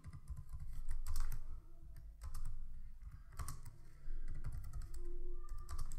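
Bursts of typing on a computer keyboard while a SQL query is written, clusters of key clicks separated by short pauses, close and clear.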